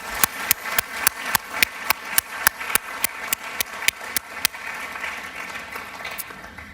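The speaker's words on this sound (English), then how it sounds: "Please let's give a round of applause for these young people." Applause for young people honored at a 2017 youth awards ceremony, led by one close, loud clapper striking in a steady even rhythm, around seventeen sharp claps, before stopping and leaving a softer room murmur.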